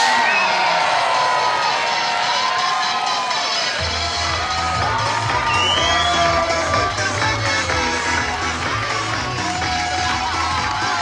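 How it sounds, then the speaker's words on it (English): A crowd at the Super League Triathlon in Singapore, 2019, cheering and whooping for the season champion from France, Vincent Luis: a dense, continuous roar of voices and shouts swelling throughout. "a big shout, cheer, round of applause for our champion of the Super League Triathlon"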